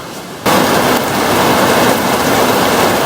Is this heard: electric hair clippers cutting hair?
no